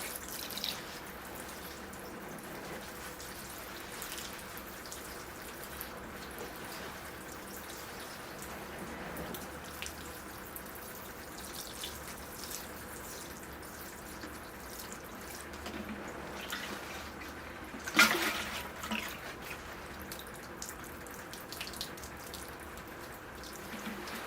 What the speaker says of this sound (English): I'm going to wash the soil out